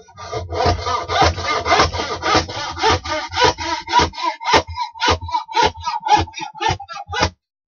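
Loud, steady back-and-forth strokes of a handsaw cutting through a wooden drawer front, rhythmic and close, ending abruptly after several seconds.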